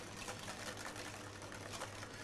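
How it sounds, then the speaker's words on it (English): Mayonnaise is whisked hard by hand into an emulsion, making a rapid, continuous clicking and swishing of the whisk against the bowl. It is quiet and close, with no talk. "when I'm going for the hell for leather, I whisk with my right hand"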